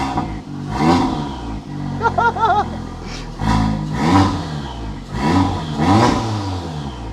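A VW Golf R with its stock exhaust and intake revs repeatedly, several loud rising engine bursts with a throaty exhaust note, separated by brief idle dips and a short whirring passage in between.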